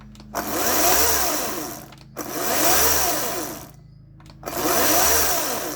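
A Ryobi 36V 14-inch brushless battery chainsaw revs up in three separate loud bursts of about a second and a half each, with brief pauses between them and a short delay as each burst starts.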